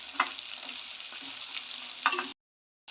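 Green chillies and curry leaves fry in hot oil with a steady crackling sizzle and a few sharp stirring taps, then the sound cuts abruptly to silence near the end.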